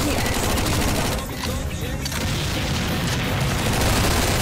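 Dense, continuous gunfire in Garry's Mod, rapid bursts and booms layered together at steady high volume, with a voice talking over it in Russian.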